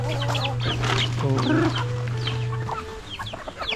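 Native chickens cluck and chatter close by in a busy flock, overlapping calls over a steady low hum with continuous farmyard background.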